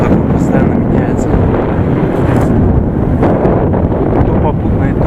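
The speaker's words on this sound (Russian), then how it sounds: "ветер такой постоянно меняется" Strong, shifting wind buffets the microphone on a high mountain road around 3600 metres in Gansu, China, a continuous loud roar with gusty surges throughout.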